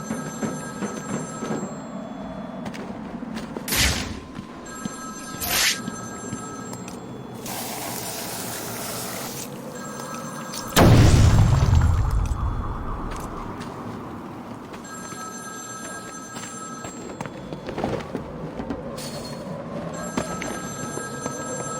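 A telephone rings repeatedly in Batman: Arkham City, sharp bell bursts spaced through a hissing, droning game ambience, with a loud rumbling surge in the middle.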